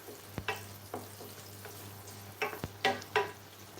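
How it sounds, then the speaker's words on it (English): Onions sautéing in a pan for shepherd's pie, a steady low sizzle with several sharp scraping and stirring strokes spaced irregularly, close and fairly quiet with no talking. "Just saute the onions like this."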